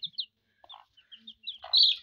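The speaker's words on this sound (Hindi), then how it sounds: "चलो मुर्गी बैठी है अपने बेबीज के साथ, वो भी दिखा देता हूँ" A mother hen settled with her brood of about ten newly hatched chicks, giving short, high chirps in scattered bursts, close by and fairly quiet, with a louder cluster of peeps near the end.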